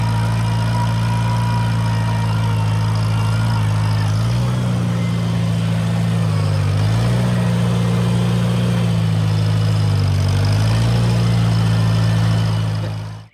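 Restored tractor engine running loud and close while turning garden soil for spring planting; a steady low drone whose pitch dips and recovers several times under load, then cuts off abruptly at the end.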